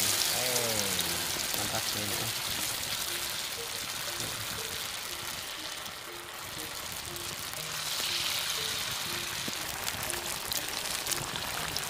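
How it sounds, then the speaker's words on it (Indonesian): Sliced gadung tubers frying in hot oil give a dense, continuous crackling sizzle, close and steady, while people talk casually over it. "Goreng itu seperti ini nih."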